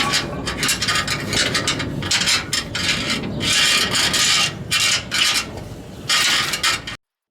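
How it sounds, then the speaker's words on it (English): A long magnet rasps and scrapes inside the steel frame of a 2022 Toyota Tacoma while fishing for a loose bolt, making continuous close grinding and rubbing in uneven bursts. "I'm gonna try to fish it out with this long magnet."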